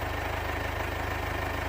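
Mercedes CLA 220d diesel engine idling after an injector seal repair, a steady close mechanical hum with a fast even pulsing throb, no voices.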